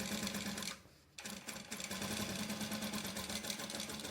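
A sewing machine stitching a dart on a skirt runs in a steady, close, rapid mechanical whir, with one brief pause near the start before the stitching resumes. No one speaks.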